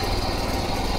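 A Dfarm mini power weeder's small engine runs steadily and loudly nearby, a continuous buzzing drone with no pauses or speech.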